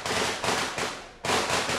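Firecrackers bursting one after another in quick succession, four loud, crackling blasts close by, each decaying briefly before the next.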